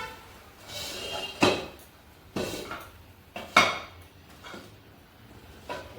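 A pot of kheer comes off a gas stove and is set down. Several distinct metallic clanks and knocks ring out close by, with quiet stretches between them.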